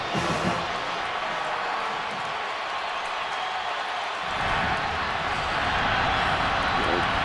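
Auburn football fans roar at the Iron Bowl against Alabama, a broad crowd din from a large stadium that swells louder midway and stays loud to the end.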